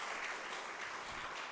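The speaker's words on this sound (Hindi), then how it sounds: "एक बार तालियां होनी चाहिए।" Steady applause from a crowd, dense and continuous clapping throughout without pauses.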